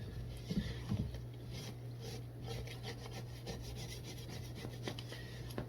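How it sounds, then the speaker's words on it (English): Quiet, repeated scraping strokes against a non-stick pan of cooking egg, a soft rasping rhythm over a steady low hum in the background. "Me scraping the pan, making sure the egg does not stick."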